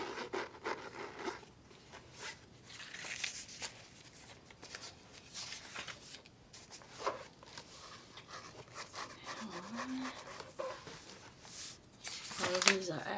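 Sketchbook pages flipped one after another, soft papery rustles and scrapes at uneven intervals, close and quiet, with a low voice speaking at times.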